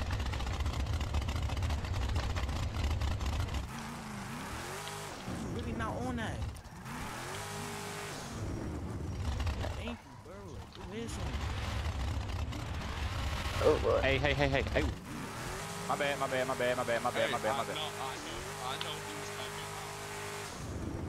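A car engine revs hard in the FiveM driving game on a small-tire build, climbing and shifting through gears with tire squeal and repeated acceleration runs, loud and close, with brief talk over it.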